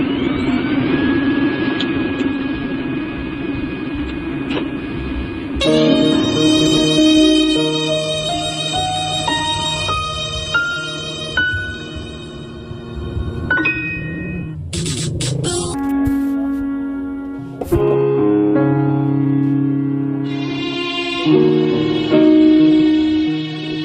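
Fixed-wing airplane in flight, its steady jet engine roar carrying through alongside loud music with no speech.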